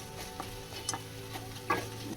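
Onions with ginger garlic paste sauté in a pan for chicken thokku biryani, a low steady sizzle punctuated by a few light scraping stirs, the last one louder and closer.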